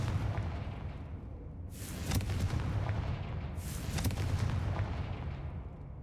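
Confringo fire spell blasting in the Hogwarts Legacy video game, two loud explosive bursts a couple of seconds apart over a constant low rumble of game ambience.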